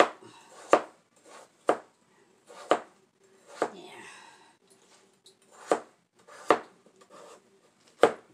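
Butternut squash being chopped into small pieces with a knife, about nine sharp, close thuds falling at a steady, unhurried pace, with faint background noise and no one talking.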